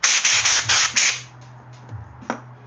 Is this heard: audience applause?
no